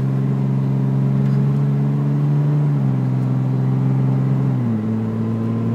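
A 2004 Ram truck's engine hums loudly and steadily while driving, its pitch stepping down twice as it shifts gears, close and with no talk.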